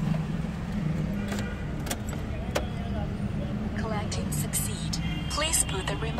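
A key being inserted into the ignition of a Suzuki Ritz car, with a faint metallic jangle and clicks amid steady in-car background hum, under a person talking.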